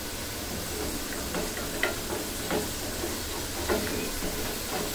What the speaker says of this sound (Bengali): মশলাটাকে ভালো মতন পেঁয়াজ মশলা সব কিছু ভুনতে হবে